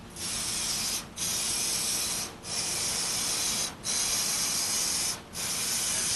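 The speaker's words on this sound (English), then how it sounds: "we're going to spray on our first coat of primer just at the spot" Primer spray-painted onto the fender of an OBS truck during bodywork, a steady close hiss of the spray gun in four long passes separated by brief pauses.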